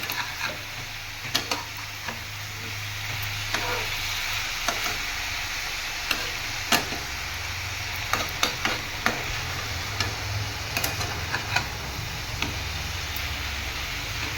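Snake gourd and shrimp stirred in a frying pan, a steady sizzle with repeated scraping clicks of the spatula against the pan throughout, close and moderately loud, no voices.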